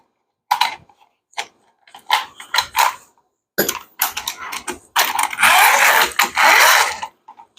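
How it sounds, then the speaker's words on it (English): Metal clamp head on a 24-inch Bessey clamp slid off its bar and flipped over: a run of close, sharp clicks, scrapes and sliding rattles in bursts, with a longer grating slide near the end. "And then we slide the head off, flip it over."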